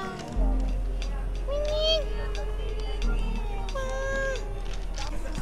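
Several cats meow in short rising calls, fairly near, over a steady low hum and some background voices.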